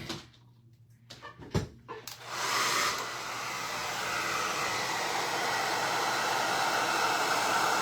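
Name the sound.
hair dryer drying a diamond painting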